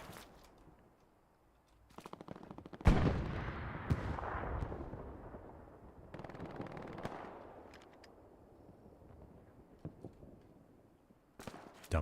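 MG42 machine gun in a World War battle game firing bursts of rapid shots, loud and near, between quieter stretches of distant battlefield noise.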